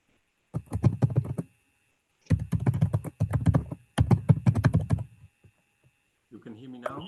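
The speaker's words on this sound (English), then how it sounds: "someone was typing, so maybe you stop the typing." Bursts of rapid computer keyboard typing during an online meeting, clattering in several separate runs with short pauses, close and fairly quiet, followed by a brief voice.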